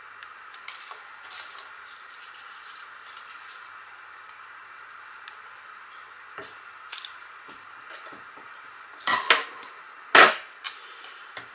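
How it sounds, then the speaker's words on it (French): Flower stems snipped with scissors while making a dress-form craft: a few faint, sparse clicks early on, then a cluster of sharper snips near the end, the last one loud and close, with no talk. "Je vais couper toutes les tiges."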